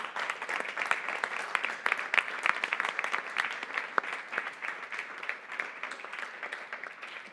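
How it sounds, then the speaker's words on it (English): Audience applause at a tech meetup talk night, a lively crackle of many hands clapping with scattered sharper claps, sustained at a steady level throughout. "Another round of applause."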